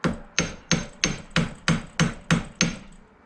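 A hammer tapping an old flathead screwdriver bit during a Datsun 280ZX 5-speed transmission rebuild: nine sharp, evenly spaced metallic taps, close and clear, with no talking.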